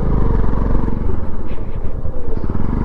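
Motorbikes pull into a parking area on the Jalori Pass road in Himachal Pradesh, their engines rumbling loud and close throughout with steady throbbing pulses and some rattling clatter.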